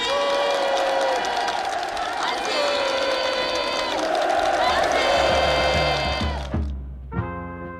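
Participants applaud warmly at a move-in ceremony for new farm workers' homes, with a dense crowd clapping under loud sustained music. The sound cuts off abruptly near the end, leaving a few fading tones.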